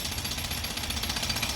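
A jackhammer pounds steadily and continuously at a neighbor's construction site, breaking up old concrete beneath a walkway, a dense rapid rattling heard from some distance.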